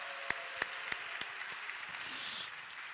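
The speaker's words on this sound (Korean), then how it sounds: "감사의 박수 보내주면 감사하겠습니다." Congregation clapping for a saxophonist at a church worship service: a few sharp, separate claps at first, then softer scattered clapping that swells slightly before fading, fairly faint.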